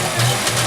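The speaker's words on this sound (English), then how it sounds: "Listen to that engine purr." Car engine running at a Lemons Rally event, a steady low idling hum with a slight uneven knock, heard close and alone for a brief moment.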